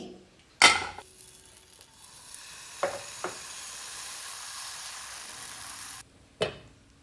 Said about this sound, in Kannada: ಹಾಗೆಯೇ ಉಳಿದ ಎಲ್ಲ ಟೊಮೆಟೊ ದೋಸೆ ಫ್ರೈ ಮಾಡಿ ತೆಗಿತೀನಿ